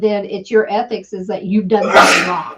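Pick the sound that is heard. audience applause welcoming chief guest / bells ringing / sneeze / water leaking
sneeze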